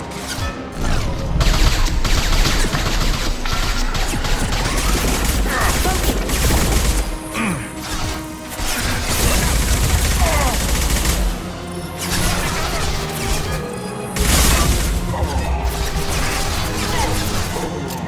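Heavy sustained gunfire and explosive impacts from the video game Mass Effect 2 form loud, dense bursts of shots and booms throughout, with brief lulls between volleys.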